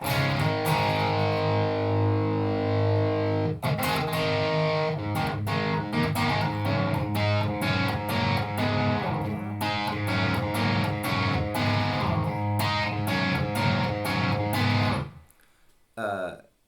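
An electric guitar plays through the drive channel of a BluGuitar Amp 1 with boost on, chords and riffs ringing continuously with gritty, saturated medium-gain tone before cutting off abruptly near the end.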